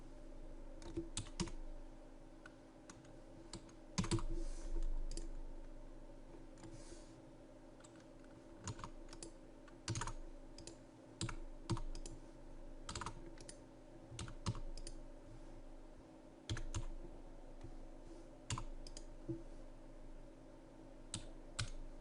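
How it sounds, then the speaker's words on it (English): Numbers are typed on a computer keyboard while entering figures into a small-business VAT invoice tracker, giving steady, close, crisp key clicks in irregular bursts with no talking. "So I'm going to type in 145."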